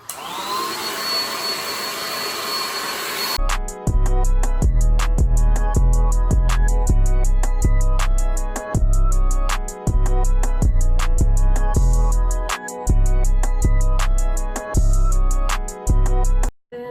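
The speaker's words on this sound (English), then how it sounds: "use your blow dryer again" Hair blow dryer blowing on a wig, a loud, steady whooshing roar that switches on after a quiet lead-in and keeps running with brief dips as it is moved around.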